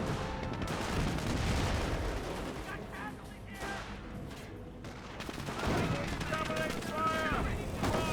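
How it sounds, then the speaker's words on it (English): Anti-tank gun firing in a Company of Heroes 1 match between US and Panzer Elite forces: rattling gunfire and booming shots amid battle chaos, mixed with voice lines and game sounds. "AT gun firing away."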